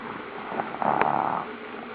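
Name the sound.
child snoring on request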